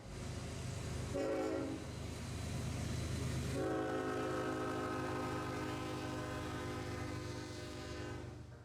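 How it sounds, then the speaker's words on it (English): A Herzog freight train rumbles past steadily while its horn sounds a brief blast, then a long, sustained chord over the rolling noise. "We had been waiting on a Herzog train to come out of Johnstown for a while"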